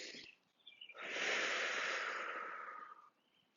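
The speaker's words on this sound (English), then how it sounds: "Deep breath in." A single long, deep inhalation through the nose during a spring yoga session, close and breathy, swelling for about two seconds before tapering off, with a short softer breath before it.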